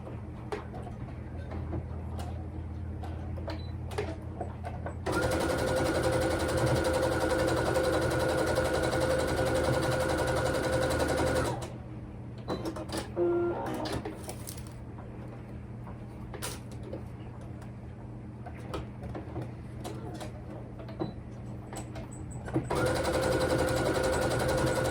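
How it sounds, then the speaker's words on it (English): A sewing machine stitches along marked lines on a quilt block in two loud, steady humming runs. A quieter stretch with small clicks and handling sounds separates them. "Sew on both marked lines."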